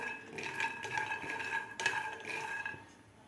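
Peanuts being dry-roasted in a pan over a medium gas flame, with continuous close scraping and stirring, rattling nuts and faint metallic clinks of a utensil against the pan.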